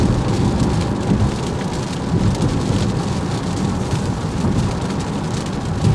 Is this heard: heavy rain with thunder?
yes